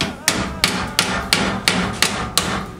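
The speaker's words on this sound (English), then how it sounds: "I'm feeling a gentle touch with the hammer will bring it in line" A hammer taps a metal roof rack into line on a rally car, six evenly spaced, sharp metallic knocks about a third of a second apart, close and clear.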